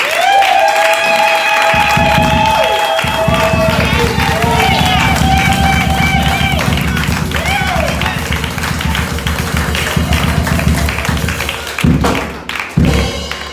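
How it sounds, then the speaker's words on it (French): Members of an evangelical church congregation in Clermont-Ferrand break into sustained applause, a thick wash of clapping that swells for several seconds under lingering music tones, then thins out toward the end. "Maintenant nous allons l'acclamer. Acclamons-les s'il vous plaît."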